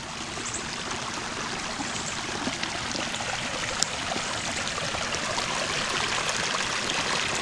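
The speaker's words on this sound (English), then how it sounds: "we sort of got like a little mini waterfall" Small waterfall of rising floodwater overflowing into a yard, a steady close rushing and splashing flow with no pauses, even in loudness from start to finish.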